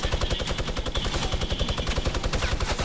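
Rapid automatic gunfire in a video game, a loud, dense, continuous stream of shots with a steady rattling rhythm that fills the whole moment, close and unbroken.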